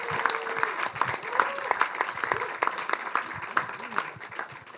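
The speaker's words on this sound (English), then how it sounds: "For now, give an applause to June Chihiro for speaking on the panel, and Pravini" Audience applause for panel speakers at an arts of resistance festival event, moderate clapping with a voice speaking over it intermittently.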